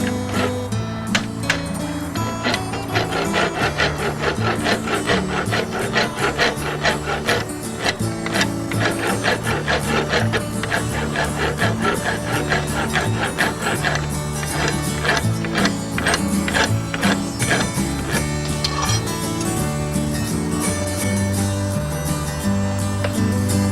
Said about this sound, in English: I'm using a wood rasp or horseshoer's rasp.